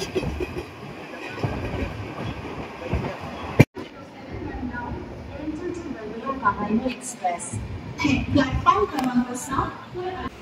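A passenger train on the Konkan Railway route from Coimbatore to Mumbai rumbles steadily, with a brief sharp knock near the middle and chatter of passengers aboard throughout.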